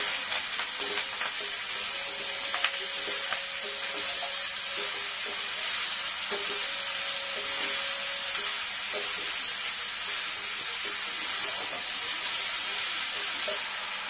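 Bottle gourd pieces, added along with fish heads, fry in a hot pan with a steady, continuous sizzle and faint scraping stirs. No one speaks.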